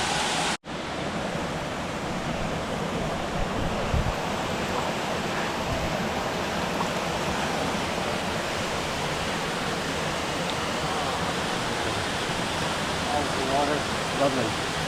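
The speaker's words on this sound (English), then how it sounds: "they call this a sacred lagoon with sacred water as it comes down from the mountain" Sacred water pouring down from the Magdalena Mountains into a lagoon on the trek to Ciudad Perdida in Colombia, a steady, loud broadband rush with no pauses that runs through the whole stretch.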